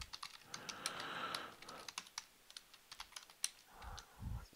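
Rapid, uneven typing on a computer keyboard during Minecraft play, loud clattering keystrokes coming in quick bursts alone, with no talk.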